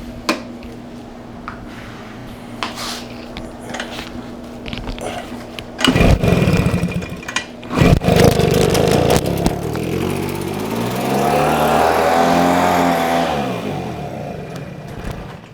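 A Husqvarna 150BT two-stroke leaf blower sputters with several short bursts and pulls, then catches and runs, its engine rising into a loud, steady buzzing roar that wavers up and down.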